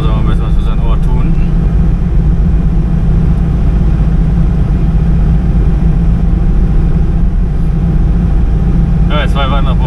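A car driving through snowy East Frisian roads toward Burhafen, a loud steady engine and road drone heard from inside the cabin throughout, with brief clicking or indicator-like ticks near the start and end.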